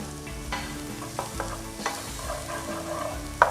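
Garlic frying in sesame oil for chicken bakmoy with tofu, giving a steady close sizzle with occasional sharp scrapes and stirring knocks against the pan.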